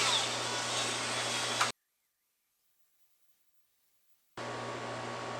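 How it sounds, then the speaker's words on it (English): A steady, broadband whirring motor runs, cuts off abruptly for a few seconds of silence, then starts up again at the same pitch. "So this drill's working really well."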